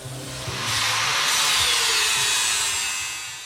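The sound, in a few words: 4.5-inch angle grinder with flat disc grinding a weld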